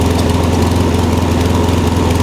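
A lawn mower engine with no fuel in it runs steadily while warming up at set throttle, giving a loud, close, even drone with a fast rhythmic pulse and no talk.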